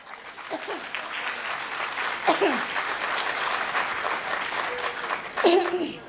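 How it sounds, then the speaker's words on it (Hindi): Audience applause at a live music show during a concert of Hindi film songs in Azamgarh, a sustained broad wash of clapping with brief cheers and a voice rising now and then. "एक बार मिलकर तालियां बजाई"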